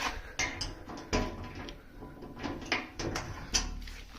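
Doors of a 60 W OMTech laser cutter being shut: several quiet knocks and latch clicks at irregular intervals, close and faint, with no talk.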